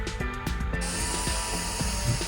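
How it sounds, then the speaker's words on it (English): A Homeika vacuum cleaner runs on a floor with a steady high whine, joined by rapid clicking and rattling against a mechanical hum, close up with no talking. "Now let's vacuum the floor."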